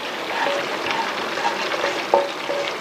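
Hot oil sizzles and spits steadily as fish fries in a pan, with sharp little pops and splatters breaking through the dense crackle, close and fairly loud, no talking.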